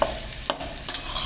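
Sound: frying onions with spices in a pan

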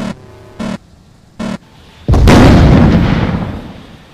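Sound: missiles being shot in a Roblox video game

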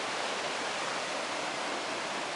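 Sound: stream flowing nearby

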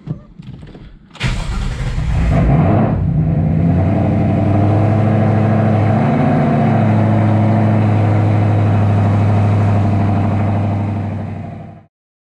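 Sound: Ford Mustang GT engine started and running

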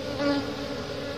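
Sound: honey bees buzzing around hive with queen

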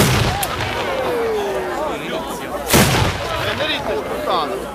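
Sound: firework bomb shell exploding at a pyrotechnics display

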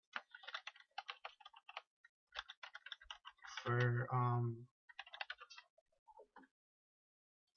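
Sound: typing on a new computer keyboard

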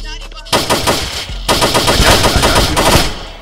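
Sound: gunfire in a video game

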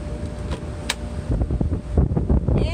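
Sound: wind

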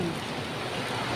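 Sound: rain falling by a river

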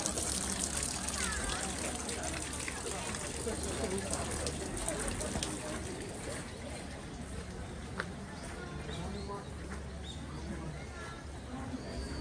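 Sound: water trickling at shrine hand-washing basin, Hirota Shrine Japan

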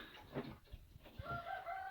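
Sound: roosters

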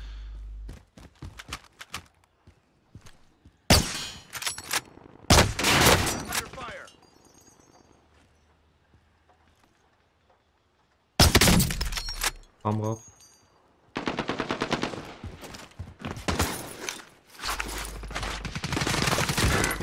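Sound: gunfire in the video game Warzone Cold War

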